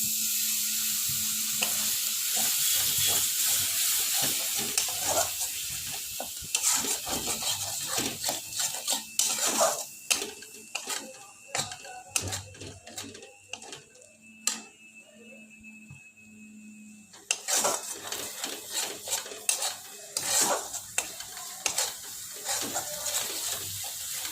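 Spice paste sautéing in a pan for a lote fish curry, sizzling and frying with repeated scraping and stirring strokes against the metal, a loud bubbling burst at the start and again near the end, no voices.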